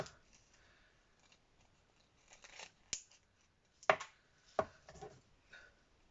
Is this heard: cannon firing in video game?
no